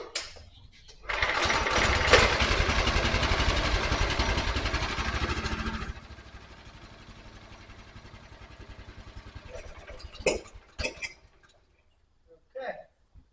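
A dumpster-salvaged Honda 3000 PSI pressure washer engine fires up and runs loudly with a rapid steady chug for about five seconds, then dies down to a quieter sputter, followed by scattered knocks.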